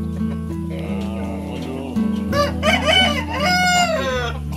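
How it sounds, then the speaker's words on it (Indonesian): An Indio Gigante rooster on a farm crows loudly and close by, with clucking woven in; the calls rise and fall in a long, drawn-out crow over a steady background. "Ini ayam Indio Gigante."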